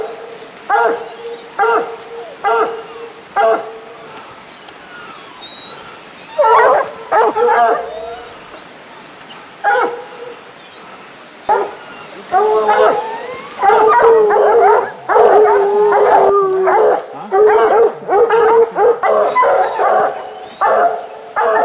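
Several dogs bark, yip and howl outdoors where a mountain lion is being hunted, with bursts of barking in clusters and rising howls, loud and close, while people talk at times.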